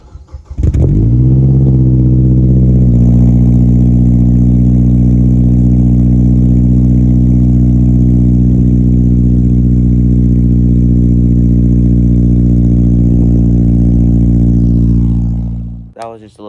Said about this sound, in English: let me do a cold start for you guys, and I'll show you guys exactly what it sounds like after it's been broken in a little bit.